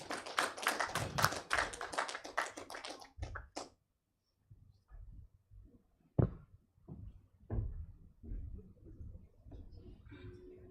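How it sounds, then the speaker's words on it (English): Audience clapping at an African women in arbitration symposium, a dense burst of applause for about three seconds that fades into scattered claps and taps, with faint voices afterward. "Another hand clap, please."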